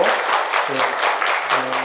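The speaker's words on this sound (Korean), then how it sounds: "우리 네 분에게 큰 박수로 한번 받아주시면 좋겠습니다." An audience at a neighbourhood book-concert talk event breaks into applause, a full, even wash of clapping with a few voices mixed in beneath it.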